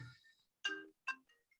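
A mobile phone ringtone chimes indoors, a few bright electronic tones in short bursts separated by brief gaps, fairly faint and with no talking over it.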